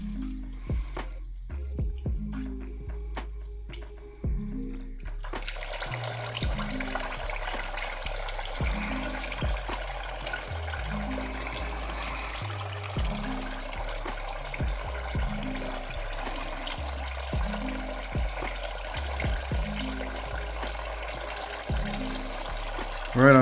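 Coolant drains from a BMW 335i radiator in a steady trickle with regular drips and splashes into a container, close by and fairly quiet, with a broadband wash rising partway through.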